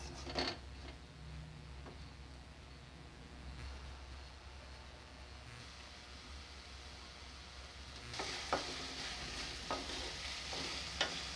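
Chopped vegetables for Mumbai-style pav bhaji frying in a pan, with a steady low sizzle and occasional scraping, clattering strokes of a stirring spoon, close and fairly quiet, with no talking.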